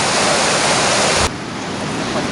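The Kengarka river in Siberia rushes along in a broad, steady roar near at hand, the flow dropping suddenly to a softer wash partway through.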